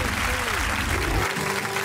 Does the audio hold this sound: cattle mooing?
no